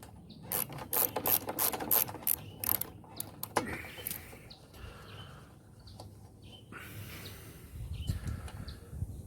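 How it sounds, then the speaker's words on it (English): A ratchet with a 19mm spark plug socket loosening the spark plug on a petrol lawnmower: rapid close clicking in quick bursts, then quieter mechanical fiddling with a faint background hum. "Take a 19mm spark plug socket on a ratchet."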